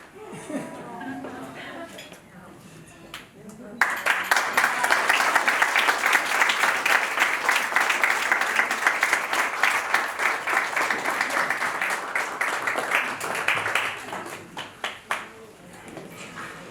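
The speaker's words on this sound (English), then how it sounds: "I think the groom's mum and the bride's mother-in-law deserves another round of applause" Wedding guests break into sustained applause after a speech at a reception, a dense clapping roar lasting about ten seconds, with clinking cutlery and dishes and a voice speaking before and after.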